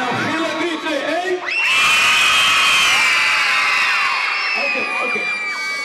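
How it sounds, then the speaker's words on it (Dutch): A crowd of children screams at full volume after a countdown during a morning warm-up before a sponsored run; an adult voice counts first, then a long, dense burst of shrieking that slowly fades. "En dan gillen, 3, 2, 1!"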